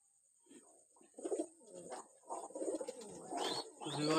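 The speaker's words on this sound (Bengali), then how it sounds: "এই যে এখানে একটা মাদি কবুতর" Soft, repeated cooing from a female wild Jalali pigeon, a few low rolling coos close by with faint background hiss.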